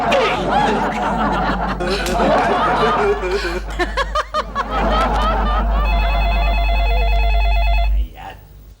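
A telephone rings with a repeated electronic trill near the end, following a stretch of lively talk and laughter in a Hindi comedy household scene.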